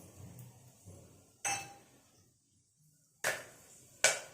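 Whole spices hit hot oil in a pan while cooking black channa kuruma, giving several sharp crackling bursts separated by quiet gaps, close and fairly loud, with a faint low rumble between them.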